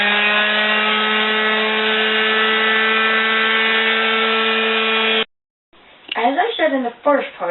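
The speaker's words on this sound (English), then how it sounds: "drilling is a part of prepping the wood" A power drill drilling wood whines at a steady pitch for several seconds, stops abruptly, and then a person begins talking.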